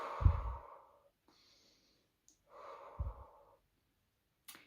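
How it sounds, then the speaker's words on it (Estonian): Two slow, deep breaths, each a long airy inhale through the nose followed by a soft exhale, close and quiet with near silence between them. "sügav hingamine, nina kaudu sisse"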